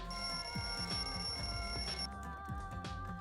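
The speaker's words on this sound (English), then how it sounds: "The lounge's wall clock alarm started ringing at 5:30." A wall clock alarm rings in the lounge in Danganronpa 2, a steady bright electronic tone held for about two seconds over busy game music, then cutting off.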